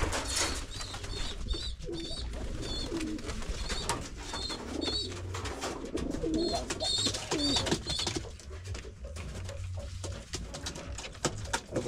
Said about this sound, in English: So what I was saying about the pigeons, I just love the sound they are making.